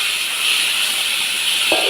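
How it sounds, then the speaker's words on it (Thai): Steady rain falls at a riverside garden house, a dense, even hiss that continues throughout, with a brief knock near the end. "ฝนตกแล้ว ดีใจจังเลย"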